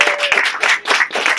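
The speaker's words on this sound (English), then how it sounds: "Give Josh a big round of applause." Brief burst of audience clapping at a cabaret magic show, loud and close, with uneven pulses of hands hitting.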